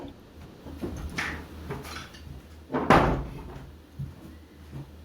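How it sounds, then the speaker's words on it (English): A door is shut indoors: some faint shuffling and handling sounds, then one sharp, fairly loud knock of the door closing, followed by quieter rustling. "I need to close the door."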